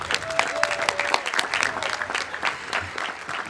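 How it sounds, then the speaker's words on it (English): Graduation audience at a high school commencement clapping steadily for a veteran, a dense, even round of applause from a large crowd that holds at a constant level throughout. "And a big round of applause to my dad,"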